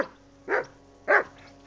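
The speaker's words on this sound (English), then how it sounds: "Call off that mutt of yours!" A dog barks twice in Kingdom Come Deliverance II, two sharp, separate, fairly close barks about half a second apart over a quiet game background.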